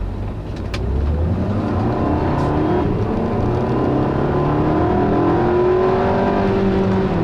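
A 2012 Volkswagen Eos convertible with a 6-speed DSG accelerates steadily, its engine note climbing smoothly through the rev range in a sustained, even hum heard from inside the car.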